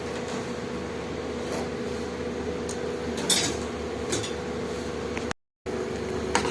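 Chickpea sundal gravy bubbles in a pot as the chickpeas go in and get stirred, giving soft clinks and scrapes of a spoon against metal over a low steady hum, with a brief dropout near the end.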